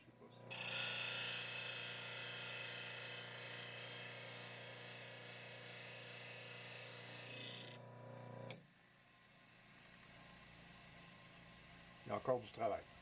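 A skew chisel being ground on a 180 grit wheel, a steady high whirring grind for about eight seconds that stops abruptly, followed by quiet hum and a few short clinks near the end.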